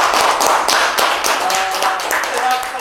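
Applause and hand claps fill a podcast studio at Solo Radio, dense and close, a steady burst of slaps with a few voices underneath throughout.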